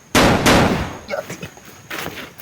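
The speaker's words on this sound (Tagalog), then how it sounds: "May putok mga tol, pero malayo." Gunshots ring out in a video game match, two sharp loud cracks close together followed by fainter scattered reports trailing off, with another burst near the end.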